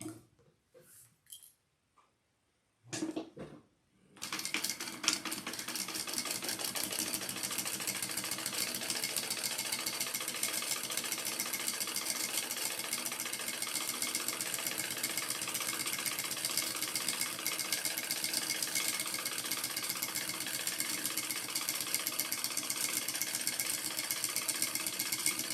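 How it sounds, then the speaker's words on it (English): A sewing machine stitches a long seam down the middle of a sling pack. A few handling clicks come first, then a steady close mechanical whir continues unbroken for about twenty seconds. "I'm gonna sew down the middle"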